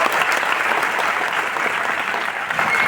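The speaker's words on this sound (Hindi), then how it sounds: "लगा के बैठे होगे तो एक बार अपने लिए जोरदार तालियां हो जाएगी" An audience at a Vestige sales seminar claps loudly and steadily, dense applause filling the whole short stretch without pause.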